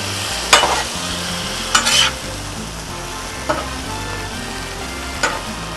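Fajita vegetables hiss and sizzle on a hot Blackstone griddle while being tossed, with a steady frying crackle broken by several sharp scraping spatula strokes.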